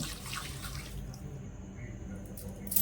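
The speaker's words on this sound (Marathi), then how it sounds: "यामध्ये ना अगदी कडक कडक पाणी घालून घेणार आहे" Very hot water pouring into a pot of mutton trotters, a steady broadband rush of liquid running on for several seconds at moderate level, with no one speaking over it.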